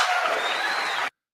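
A short burst of audience applause and light cheering, dense and steady for about a second before cutting off abruptly into silence.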